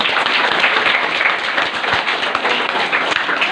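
Children clap after a magic trick in a storytelling session, a dense, continuous spatter of many small hands, fairly close and lively, with no talking over it.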